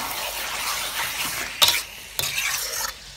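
Chicken biryani masala stirred in a pan after a sprinkle of water, a soft sizzle broken by two loud scraping bursts from the spoon, close up with no talking.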